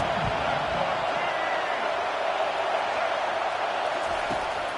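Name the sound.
stadium crowd cheering in NCAA 25 football video game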